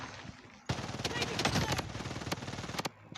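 Rapid automatic gunfire from the Blood Strike shooter game erupts suddenly and rattles on in dense, close, loud bursts for about two seconds before cutting off.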